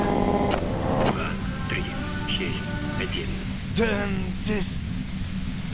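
Radio white noise in Disco Elysium, a steady broadband hiss running under a voice, with warbling tones and brief sweeping chirps breaking through near the end.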